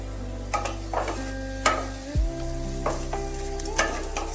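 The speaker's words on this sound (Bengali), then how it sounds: "আলুগুলো বেশ একটু ভাজা ভাজা হয়ে গেছে।" Potatoes frying in a pan, a continuous sizzle under a low steady hum, broken by several sharp clinks and scrapes of stirring at irregular intervals.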